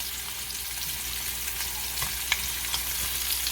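Thick pork chops sear in a hot pan, a close, steady sizzle and crackle with small pops and occasional louder spits throughout.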